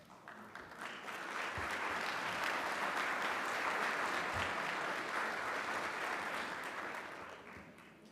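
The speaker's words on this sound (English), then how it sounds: "big round of applause for both candidates." Applause from the audience at a mayoral debate for both candidates swells up quickly, holds as an even wash of clapping for several seconds, then fades out near the end.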